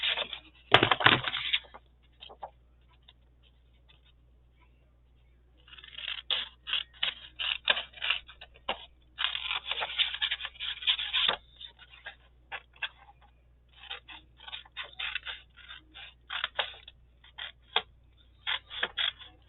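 Scissors snip through paper card in quick runs of close, crisp cuts, pausing between bursts against a quiet room.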